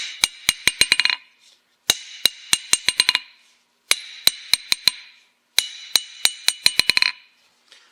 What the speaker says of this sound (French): l'enclume ancienne en vieux fer avec une face d'acier, elle, c'est pas normal qu'elle sonne comme ça